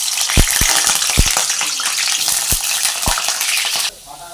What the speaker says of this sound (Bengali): তেল দিয়েছি, তেলটা আমাদের গরম হয়ে গেছে, তাই আমি আলুটাকে ভেজে নেব লাল লাল করে।